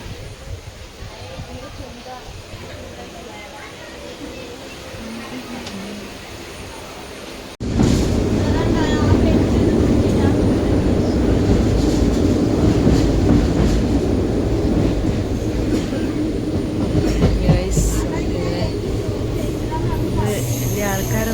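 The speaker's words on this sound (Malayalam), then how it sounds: "ഗൈസ് നമ്മൾ ട്രെയിൻ കയറി." Passenger train running, quieter at first and then abruptly louder from about a third of the way in, with steady rumble and rhythmic clickety-clack of wheels on rails and no clear talk.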